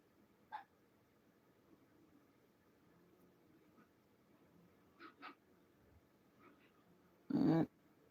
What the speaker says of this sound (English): There goes the puppies.